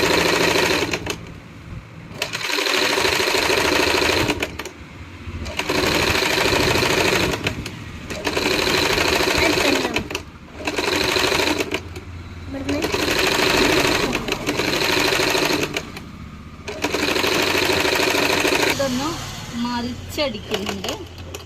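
A sewing machine stitches lace onto fabric in loud, rhythmic bursts of rapid whirring, stopping briefly between runs over about twenty seconds.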